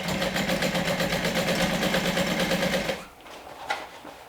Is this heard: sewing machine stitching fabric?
yes